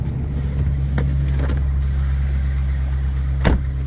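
A pickup truck engine idles steadily while warming up in a snowy driveway, a constant low rumble running throughout with a brief louder blip near the end.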